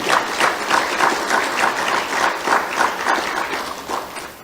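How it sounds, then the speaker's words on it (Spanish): A church congregation claps during a Bible study service, a steady rhythmic applause with pulsing beats for several seconds, fading slightly toward the end. "Dense aplauso al Señor, amén."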